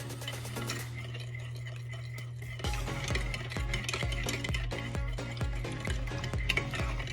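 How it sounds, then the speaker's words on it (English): A spoon stirs a sugar and active dry yeast mixture for beignet dough in a bowl, steady rhythmic scraping and clinking strokes, close and clear over a low background hum. "And now I will mix that up"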